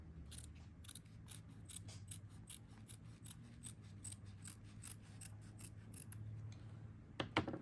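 Scissors snipping through fabric for a bunny pillow craft, a steady run of close, crisp cuts at a brisk rhythm with a low hum underneath and a couple of sharper snips near the end.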